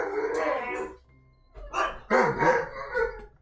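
An excited dog barks and howls nearby in a short, loud burst of yelps, then several rapid barks after a brief pause, all indoors.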